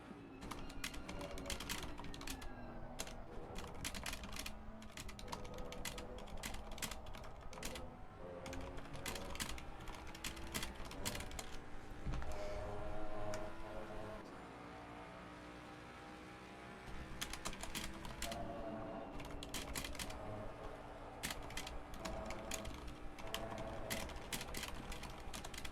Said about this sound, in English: Loud typing is loud.